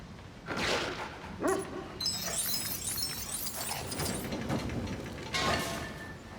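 In the Lego Marvel Super Heroes 2 video game, a dog barks and yips a few times amid clanking mechanical ratchet noises and busy game sound effects.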